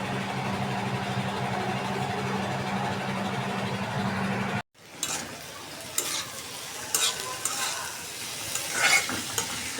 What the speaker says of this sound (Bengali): ভাজিটা বসাই দিচ্ছি আগে।